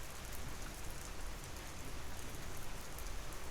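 Steady, dense rain falling on surfaces, a continuous even hiss with no pauses, close and fairly loud, alone without voices.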